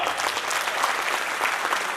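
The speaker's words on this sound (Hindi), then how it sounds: "ताली बनती है साहब" Audience applause at a district cabinet installation event, a dense, steady burst of clapping from a crowd filling the whole moment at even loudness.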